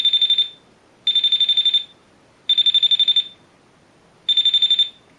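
A UK esop paranormal touch detector alarm goes off in four loud, shrill electronic bursts, each a rapid pulsing beep lasting about half a second to a second, with short silent gaps between them.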